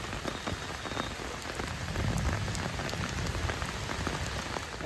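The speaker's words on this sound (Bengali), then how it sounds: "এখন প্রচণ্ড হারে বৃষ্টি" Heavy rain pours down during a storm by the Damodar river, a dense continuous hiss and patter of drops hitting surfaces, loud and steady with no talk.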